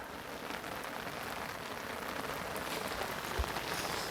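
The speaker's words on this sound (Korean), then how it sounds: "역시 비가 오니까 조금" Rain falling steadily outdoors by the Hantan River near natural stone, a dense, even hiss of drops on surfaces with a soft patter throughout, continuous and fairly close.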